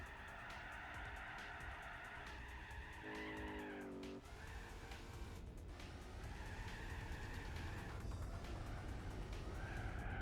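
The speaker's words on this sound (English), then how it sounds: "Really have got to prevent the wheel spin now." Wheel spin from an old muscle car racing in Gran Turismo 4, a continuous loud engine roar with squealing, skidding tyres, a brief higher tyre screech partway through.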